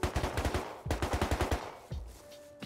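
AK rifle fire in the survival game Rust comes in rapid automatic bursts, with a longer string and a few single shots, close and punchy.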